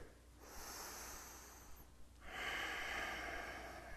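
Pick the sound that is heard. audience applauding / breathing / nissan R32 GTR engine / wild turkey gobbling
breathing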